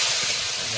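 Tomatoes dropped into a hot, spiced pan while cooking fish outdoors, giving a steady close hiss of sizzling oil with no talk over it.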